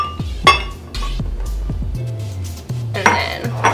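Blueberries fall into a blender jar for a smoothie, making a string of sharp little clicks and clinks against the container, scattered irregularly and close.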